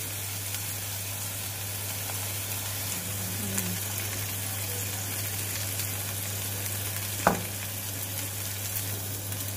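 Swordfish pieces fry in a pan with a steady, even sizzle and a constant low hum beneath, broken once by a brief sharp clink, with no voices.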